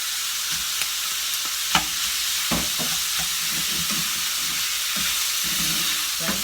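Mixed beans sizzling in a hot pan for fried rice, a steady broadband fry hiss with scattered scrapes and clicks of stirring throughout, close and fairly loud, with no talking.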